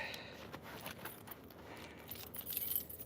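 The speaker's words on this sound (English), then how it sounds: "Keys." Keys jangle as they are handled and pocketed in a close, quiet indoor setting, a light metallic clinking with a few louder rattles toward the end.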